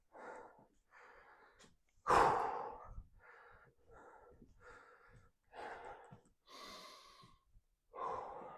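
Heavy, ragged breathing after a set of heavy squats in a leg workout, with a string of close, loud inhales and exhales, one sharp gasping breath and a few sighs, no talking.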